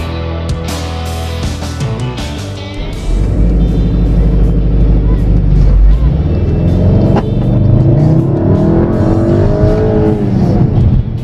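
A 2015 VW Golf TDI or VW Beetle Turbo engine revs up loudly to about 3,500 RPM and holds a high, rising roar, then dips and climbs again; close and continuous, with no talking.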